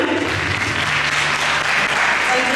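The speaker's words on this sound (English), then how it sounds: "Let's give a big round of applause to our Sanchita ma'am." An audience applauds Sanchita ma'am at a school gathering of children. The clapping is loud and dense, a steady ovation that runs unbroken from start to finish.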